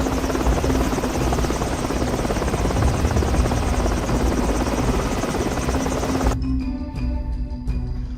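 A helicopter's loud rotor and engine roar pulses steadily, then the sound thins out abruptly near the end as it flies away, leaving a fainter buzzing tail.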